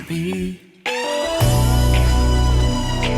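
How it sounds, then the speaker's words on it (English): Music from a recreation of a song builds briefly, drops, then bursts into a loud, dense climax with a sustained screaming voice over heavy instruments. "The entire track sort of erupts with that scream that you hear"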